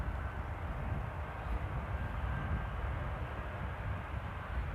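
A jet airliner arriving at Amsterdam Airport in the rain produces a steady, low, rumbling engine roar that holds throughout at moderate loudness, with no voices.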